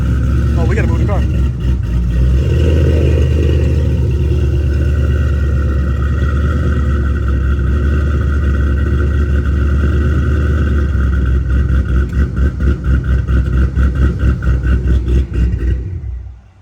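A 4.6-litre three-valve Mustang V8 with a supercharger and forged rods and crank idles and burbles loudly up close as the car is moved, a steady rumble that turns choppy and pulsing near the end, with voices talking over it.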